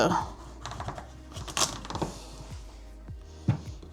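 A knife cuts through a vegetable on a board, with several sharp, close taps and crunching strikes spaced irregularly and a soft voice underneath.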